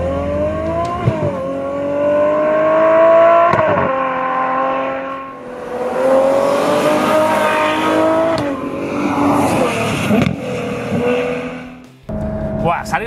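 An 800 hp Ferrari 812 Superfast V12 launches hard from a standstill, its engine note climbing loud and close through several gear changes with brief dips between shifts, then cutting off near the end.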